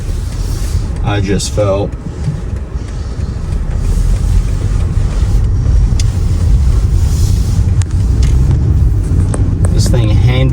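A 2023 BMW X3 SUV rolls to a stop on snow, with a loud, steady low road and cabin rumble throughout; a person talks briefly early on.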